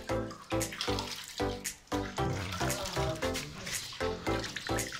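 Soapy water sloshes and splashes in pulsing bursts while a metal chicken pipe canister is washed before repainting, close and fairly loud, with no voice.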